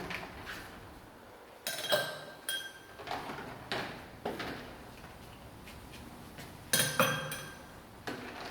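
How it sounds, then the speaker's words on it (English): Fresh ice cubes dropped into a glass, giving several separate clinking, rattling bursts spaced a second or two apart, close and fairly quiet against a soft background. "Before I pour into my glass, I'm going to add some fresh ice"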